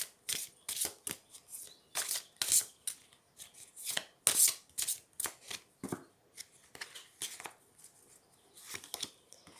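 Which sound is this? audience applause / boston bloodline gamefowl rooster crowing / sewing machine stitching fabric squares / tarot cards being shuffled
tarot cards being shuffled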